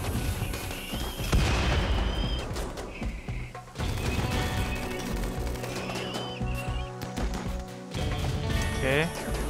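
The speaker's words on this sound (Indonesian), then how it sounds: "Aduh, meledak ini, guys." Explosions boom and crash in RimWorld gameplay, with several heavy blasts and rattling impacts layered over a loud, busy mix as someone talks throughout.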